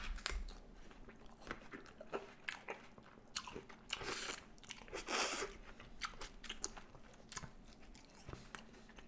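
Someone bites into a crisp organic Gala apple and chews it up close, producing a run of sharp crunches and wet chewing noises over about nine seconds, with no talking.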